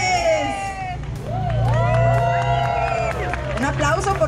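A crowd cheers and claps for a guest arriving at an outdoor event on Paseo de la Reforma, with shouting voices and babble rising in a steady, sustained swell throughout.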